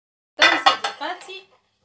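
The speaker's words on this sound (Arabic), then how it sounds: "جبت البلاتو نتاعي، توا جبت البلاتو باش نحط الكعيبات تاع السمك في البلاتو هكا" A metal baking tray handled among dishes, a few quick close clinks and clatters in a burst lasting about a second, then quiet.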